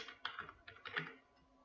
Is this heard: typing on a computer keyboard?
yes